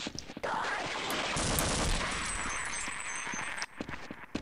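Rapid gunfire in the video game Half-Life: Uplink rattles on continuously for several seconds, loud and dense, with sharp shots at the edges.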